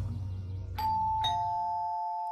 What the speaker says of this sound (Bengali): হঠাৎ কলিং বেল বাজল।